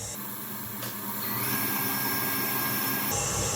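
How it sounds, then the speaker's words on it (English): Electric hand mixer whirring through cupcake batter in a bowl, a loud continuous high-pitched motor whine that steps up in speed partway through, alone without talk. "you can stop the mixer, scrape all the ingredients around the outside so they get back in the bowl, mix again"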